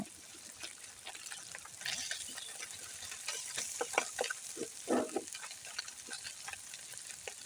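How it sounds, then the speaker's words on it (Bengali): Two dried red chillies frying in oil for a fish bhorta, a soft, steady sizzle with light crackles and stirring sounds rising in the middle, quiet and close with no voices. "শুকনা মরিচটাকেও আমি ভালোভাবে করে ভেজে নিব।"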